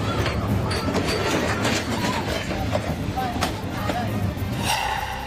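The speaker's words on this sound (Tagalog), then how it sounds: "lalaking bumisita sa iconic na train street sa Vietnam," A train rumbles and clatters through the narrow train street in Vietnam, close and loud, with rattling wheels and faint squeals. Voices and gasps from onlookers are heard over the noise.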